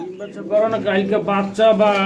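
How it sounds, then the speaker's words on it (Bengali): A pair of Black Gold pigeons coo in repeated low, throaty rolling phrases, close by and fairly loud, with voices talking over them. "খুবই চমৎকার এক জোড়া কবুতর ব্ল্যাক গোল্ড সেঞ্জেল কবুতর"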